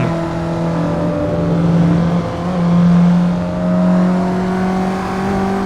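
A simulated Mazda MX-3 engine in the Assetto Corsa racing game drones loudly and steadily, its pitch swelling and easing as the throttle is worked and the wheels spin, with no voices.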